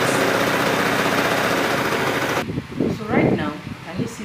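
A sewing machine runs a long straight stitch through dress fabric on its longest stitch setting, a steady dense whir for about two and a half seconds that stops abruptly, followed by someone talking.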